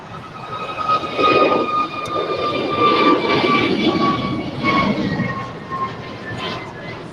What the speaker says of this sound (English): 747 on short final for 25 left as well